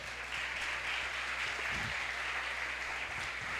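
A church congregation at a spiritual congress applauds during a sermon, a faint, even wash of clapping heard at a distance over a low hum, with no clear rise or fall.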